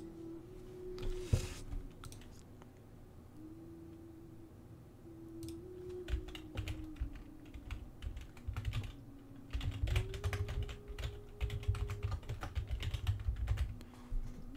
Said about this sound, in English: This is a different kind of typing.